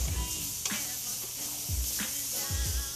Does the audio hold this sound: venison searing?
yes